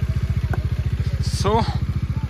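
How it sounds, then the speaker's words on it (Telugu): Motorcycles arriving at a riverside campsite in Sonmarg, Kashmir, a loud, steady pulsing engine chug throughout with a brief voice over it. "1, 2, 3 బైక్స్ వచ్చేసినాయి"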